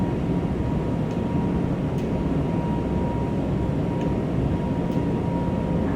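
Steady, loud broadband roar inside a JetBlue Airbus A220 cabin as the jet climbs after departure from Philadelphia, a constant rushing drone with a faint tone and a few soft clicks.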